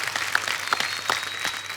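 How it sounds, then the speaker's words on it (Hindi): Audience applause on a television comedy show set, a steady wash of many hands clapping together at moderate loudness, with no talk over it. "इनके लिए एक बार ताली बजाइए"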